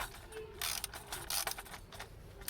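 Ratchet wrench tightening bolts on a Mercedes W124 during an EFI conversion; quick clicking ratchet strokes come in short irregular bursts, close but fairly quiet, with a bit of faint voice in the background.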